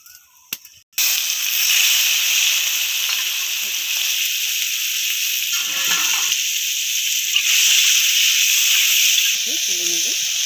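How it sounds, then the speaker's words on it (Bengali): Prawns frying in hot oil with turmeric, a loud, steady, close hiss of sizzling oil that starts abruptly after a short thump and continues unbroken, with faint clinks and soft stirring underneath. "এরপর মাছগুলো, চিংড়ি মাছগুলো ভেজে নেব।"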